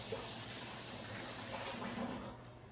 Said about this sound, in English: Another quick hand wash.